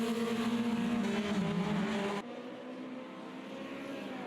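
A Formula Junior racing car roars hard down the Monza start-finish straight out of the Parabolica, a loud, sustained engine note that cuts off abruptly partway, leaving a quieter, fainter engine drone behind.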